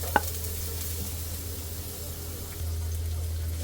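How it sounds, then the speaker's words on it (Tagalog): Garlic sizzling in hot oil in a pan while tinolang manok is being cooked, a steady low frying hiss with a brief sharp clink near the start, nothing else standing out. "Yan po, nilagay ko na yung bawang. Gisa-gisa lang."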